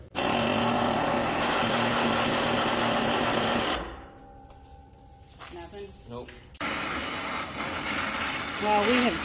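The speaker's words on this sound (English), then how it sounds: "you get on the impact, I'll get on the air hammer" Impact wrench and air hammer working on a rusty bushing on a Peterbilt truck axle: loud continuous mechanical hammering for about four seconds, a quieter stretch with talk, then the tool noise returns loud.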